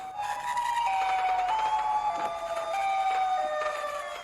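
Wailing siren tones from the Siren Head monster, a giant creature with two sirens in place of its head, gliding up and down in pitch with loud, steady, eerie howling and no talk.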